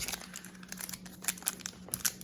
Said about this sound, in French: On ouvre les cartes.